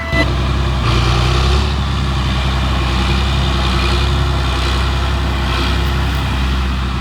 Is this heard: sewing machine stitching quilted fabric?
no